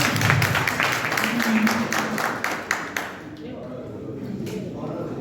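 An audience at a Constitution Day honour ceremony applauds, many hands clapping in a dense, moderately loud burst that tapers off into someone speaking over a microphone.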